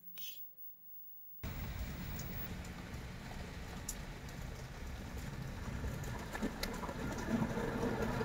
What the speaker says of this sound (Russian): А у нас в Новосибирске пошел дождь.